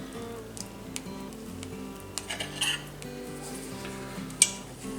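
Chopped flat leaf parsley is mixed into a leftover turkey and ham pie filling in a bowl, giving quiet scattered spoon clinks and scrapes against the bowl, soft and close, with no voices.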